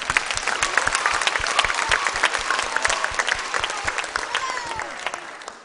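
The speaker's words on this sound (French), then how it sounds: "Nous applaudissons les membres du jury." A studio audience at a televised song-contest show applauds the jury members, a dense, loud wash of many hands clapping steadily with some crowd noise, with no talk over it.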